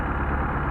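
A Mercedes 190SL engine fitted with Solex carburetors idles at about 800 to 900 rpm before warming up, giving a short, steady, low engine rumble close by.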